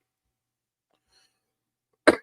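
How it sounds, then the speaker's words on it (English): After near silence, a single short, sharp cough bursts out at the very end, close and loud. "Hope my coughing wasn't filling your ears too much"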